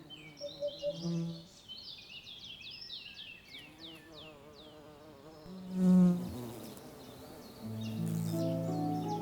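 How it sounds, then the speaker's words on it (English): Long-horned bees buzzing around the violet flower spikes of tufted vetch, several soft close buzzes rising and fading in turn, with faint bird chirps in the background. "The long-horned bees head straight for the tall spikes of the tufted vetch."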